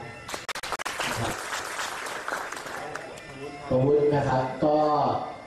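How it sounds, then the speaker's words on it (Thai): Audience applause for a photo during a photography critique session in Sangkhlaburi, a brief burst of clapping early on that fades as a voice takes over, talking and laughing near the end. "อันนี้ขอเสียงปรบมือครับ"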